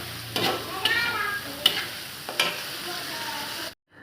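Tongkol balado, spicy tuna in chili sauce, stirred in a frying pan: steady oily sizzling with periodic scraping strokes of a spatula, close, before cutting off abruptly.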